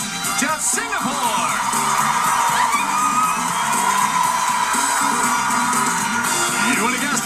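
A studio audience at The Price is Right game show cheers, whoops and yells in a loud, continuous roar, with individual shouting voices rising above the crowd.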